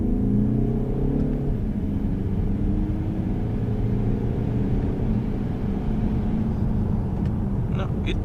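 A 2017 Skoda Superb 2.0 TDI with a DSG gearbox is heard from inside while driving, giving a continuous low diesel rumble and road hum that stays fairly even throughout.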